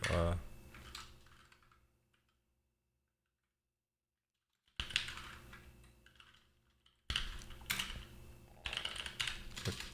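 Rapid clicks from a computer keyboard come in bursts close to the mic, with a quiet pause in the middle before the typing starts again.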